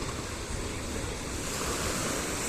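Ocean surf on a November holiday coast rolls and washes in a broad, steady roar, with wind buffeting the microphone throughout and no one speaking.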